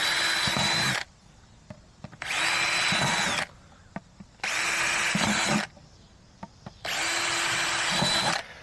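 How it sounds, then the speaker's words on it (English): A power drill whines in four separate bursts of about a second each, drilling holes in a plastic bucket, with short pauses and small knocks between them, close up. "I'm just going to take my drill bit here and just drill a few holes."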